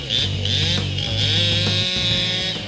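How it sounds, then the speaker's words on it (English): A powerful chainsaw cuts through a large tree, its engine roaring loud and close with a steady high-pitched whine and slight pitch dips as the chain bites. "witnessing large trees being cut down by extremely powerful chainsaws"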